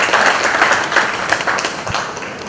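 Audience applause for a brand at a motivational success seminar, a dense, steady wash of many hands clapping close and loud for the whole stretch, with no talk over it.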